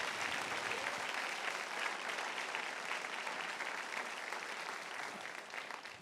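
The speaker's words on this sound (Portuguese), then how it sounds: "aplauda forte" A church congregation applauds loudly during a Quadrangular early-morning service, a dense, sustained wash of clapping that holds steady throughout and thins slightly at the end, heard at moderate distance with no voices on top.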